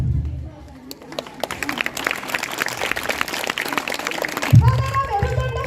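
Audience at a school annual function breaks into a broad wash of clapping that builds and holds, then cuts off as a voice takes over with a short tonal sound behind it.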